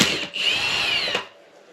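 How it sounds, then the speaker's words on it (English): A flywheel puller working on a dirt bike engine flywheel, giving a short whirring, grinding mechanical burst up close, about a second long, ending abruptly. "my flywheel puller came, so I got that threaded in there. I took that bolt off, and then I'm just going to try to pull this off now."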